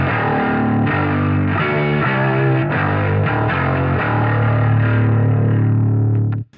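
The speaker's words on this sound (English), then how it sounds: "It's like this unique kind of distortion character." Bass guitar played through a Traynor TS 60B amplifier with distortion, a loud fuzzy growling line of sustained notes and changes that rings out and cuts off abruptly at the end.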